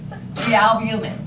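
A single loud sneeze bursts out in a lecture hall about the lymphatic system, a sharp airy blast with a short voiced tail, heard close to the lecturer's microphone with brief speech around it.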